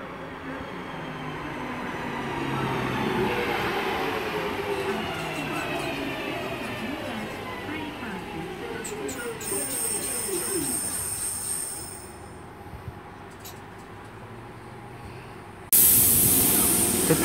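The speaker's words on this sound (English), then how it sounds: "coming in now is the 1549 service to 4 Oaks, originating Bromsgrove, formed of 323" A Class 323 passenger train pulls into a station with a loud rushing hiss and rumble that fades as it slows and stops, followed by brake and air sounds and a sudden bright hiss near the end.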